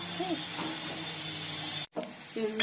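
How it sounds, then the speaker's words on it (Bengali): Bitter gourd and onion fry in a pan with a steady sizzling hiss that runs almost continuously, breaking off briefly near the end before resuming alongside a soft clatter. "উচ্ছে ভাজা করছি, এর মধ্যে পেঁয়াজও দিয়ে দিচ্ছি"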